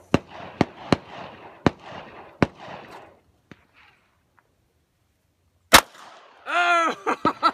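Pistol shots fired at long range outdoors: a quick series of sharp cracks with short echoing tails, a quiet pause, then one louder crack followed by a brief high vocal sound.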